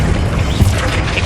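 Confringo fire spell blast in the Hogwarts Legacy video game, a sudden crashing impact peaking midway through a dense, continuous layer of battle noise, loud and close.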